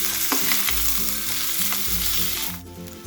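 Onion and green chillies frying in a pan until golden brown, with a loud continuous sizzle and repeated stirring scrapes close by, no talking.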